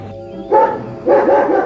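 Dogs guarding a remote farm refuge bark loud and close in two short bursts of several yips each, separated by a brief lull, with no speech.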